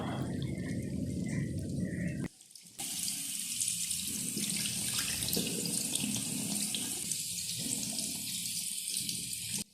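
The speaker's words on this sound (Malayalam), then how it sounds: "പെട്ടെന്ന് പോയി കൈ കഴുകാമെന്ന് വിചാരിച്ചു അങ്ങനെ ദാ കഴുകുവാണ് കേട്ടോ" Water runs steadily from a tap into a sink as hands are washed beneath it, a continuous close splashing rush that breaks off briefly near the start, then resumes and fills the rest.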